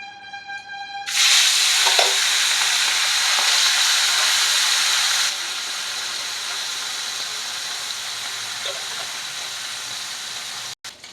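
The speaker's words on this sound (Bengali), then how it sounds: "কড়াই বসিয়ে দিয়েছি, কড়াইতে তেল দিয়ে দিয়েছি। মাছটা আমি হালকা করে ভেজে নেব" Small boirali fish going into hot oil in a wok: after a brief tonal tone, a sudden loud sizzling burst erupts, then eases after a few seconds into a steady, quieter frying hiss.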